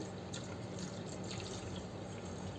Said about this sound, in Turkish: Sıcak suyu da üstüne döktüğümüz zaman Borunun içerisi tertemiz olur.